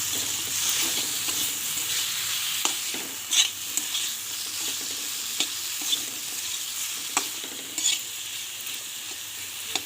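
Onion and masala sizzle steadily in hot oil for a dried prawn fry while a spoon stirs and scrapes the pan in occasional sharp knocks, close and continuous with no talk.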